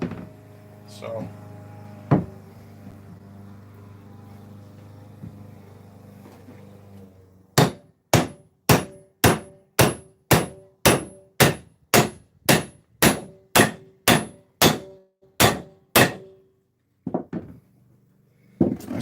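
Heavy hammer blows strike wood with nails stuck in it in a woodshed, first a few scattered knocks, then a rapid run of about fifteen loud, evenly spaced ringing hits, with a couple more after a short pause.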